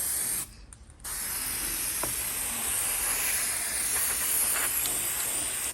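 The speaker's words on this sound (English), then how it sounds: "You may be wondering why I'm spraying it white." An aerosol can sprays white paint onto a mosaic tile clock, a loud continuous hiss that breaks off briefly near the start, then resumes and runs steadily to the end with no talk.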